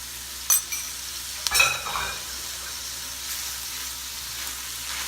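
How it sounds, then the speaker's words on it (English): Cabbage and sauce stirred in a hot pan for homemade beef and pork eggroll filling: a couple of sharp spatula scrapes near the start, then a steady, moderate sizzle with no voices. "And I'm going to stir that around."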